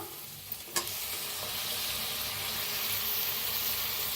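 Onion masala and tomato fry in hot oil with a steady, close, hissing sizzle, and a couple of quick stirring scrapes come near the start.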